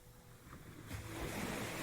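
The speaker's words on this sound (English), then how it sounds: "The sea is still calm" Calm sea at sunset with soft waves washing gently near a sandy cave, a low breezy rush that swells slightly toward the end, no voices.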